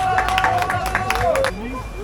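Crowd at the finish of the Saint-Denis half-marathon applauding the podium runners, a steady wash of clapping and cheering over background murmur and a tonal whistle-like line, fading slightly near the end.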